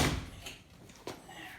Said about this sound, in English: Okay, flip that door shut, Mikey.